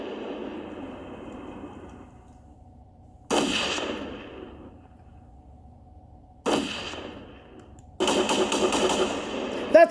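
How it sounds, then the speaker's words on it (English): AR-15 rifle fire echoes outside a school, a few sharp cracking bursts spaced seconds apart, the last one a rapid string of shots, each trailing a long reverberant decay, moderately distant. "this is the sound of an AR-15"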